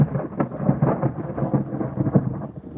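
Thunder from a monsoon storm rumbles close overhead, a continuous low rolling crackle mixed with steady rain, with no voices.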